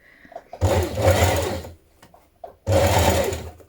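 A sewing machine stitches a fine double-fold hem along the bottom of a sleeve, in two close, steady whirring runs separated by a short pause.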